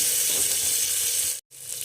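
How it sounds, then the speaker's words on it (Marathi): Onion frying in hot oil with cumin and mustard seeds crackles in a loud, close, continuous sizzle that cuts out abruptly for a moment near the end before resuming. "कांदा व्यवस्थित आपल्याला तळून घ्यायचा"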